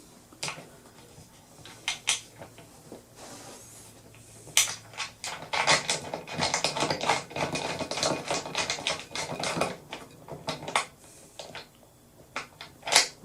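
Metal lock nut being tightened on a homemade camera boom, a quiet series of irregular clicks, taps and ratcheting metallic knocks, close up with no talk.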